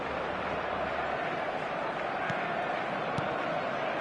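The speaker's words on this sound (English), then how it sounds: "the crowd are reacting to that now" A football stadium crowd roars as one continuous wash of noise, steady and dense with only faint shifts in swell, and no speech above it.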